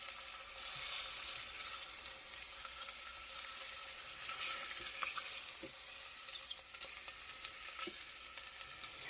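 Beef ribs searing and browning in an Instant Pot, a continuous even sizzle and crackle with small pops and occasional faint knocks, close and steady.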